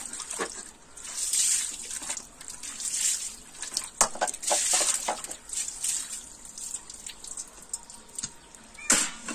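Tap water runs and splashes in a sink during dish washing at home, a steady broadband rush with clinks and irregular bursts, fairly close and continuous throughout.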